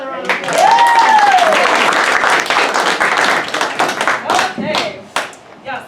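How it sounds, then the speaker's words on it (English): Audience applause and a whoop at an improv comedy fundraiser show, a loud burst of many hands clapping with a cheering voice at the start, then thinning out and fading to scattered claps. "give Harris another round of applause."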